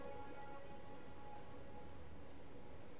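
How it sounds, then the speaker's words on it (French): Rain falls in the video game Elden Ring, a soft, even hiss of drops hitting the ground, faint and continuous with no voices. "Il pleut."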